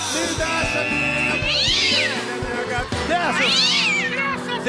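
Cat meowing loudly and repeatedly in long, drawn-out rising and falling cries over a busy background of other sound, close and prominent.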